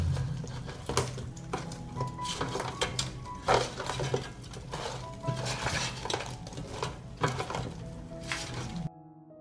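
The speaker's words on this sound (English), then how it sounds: "I'll stir." Meat and potatoes stirred in an air fryer basket, with repeated clinks and scrapes of a utensil against metal at close range, irregular and busy, over a low steady hum, with no voices.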